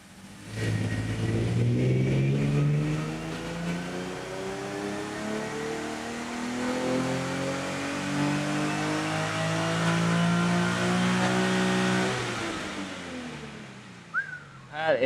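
An 18-year-old stock car roars on an all-wheel-drive dyno, its engine climbing in one long, loud rising pull for about twelve seconds before backing off.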